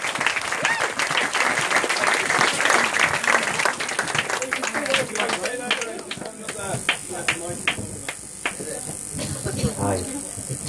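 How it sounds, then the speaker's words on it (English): A wedding audience applauds and cheers for the father of the bride, dense loud clapping that gradually thins into scattered claps with some voices in the room. "So if you'd like to give us a massive round of applause for Graham McKean, father of the bride."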